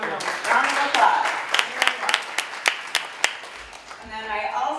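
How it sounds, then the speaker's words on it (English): Scattered applause from a venture-capital panel audience greeting a panelist, a loose run of individual sharp claps over murmuring room chatter, tapering off toward the end. "Please give him a round of applause"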